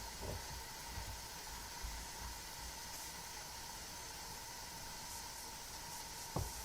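A steam needle pushed into the neck joint of a Martin HD-28 acoustic guitar during a neck reset gives a faint, continuous hiss that runs steadily throughout under a broad noise bed, with a couple of soft knocks.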